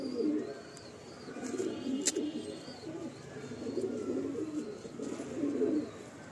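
Pigeons in a home loft coo in low, rolling murmurs that keep going throughout, fairly close and steady with no one talking.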